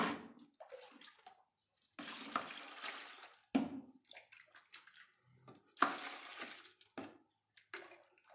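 Water is poured in while liquid soap is being made, arriving in several short splashing bursts separated by quiet gaps, close and fairly soft.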